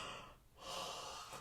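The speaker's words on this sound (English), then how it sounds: "the yawn, which can be yours too, if that is how you respond to energy" A single drawn-out human yawn during a relaxed energy exercise, with a deep breathy inhale swelling into a loud, airy open-mouthed exhale, heard close and alone.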